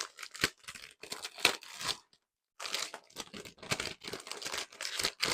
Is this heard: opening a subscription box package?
yes